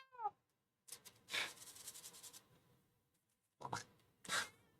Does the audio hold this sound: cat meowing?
yes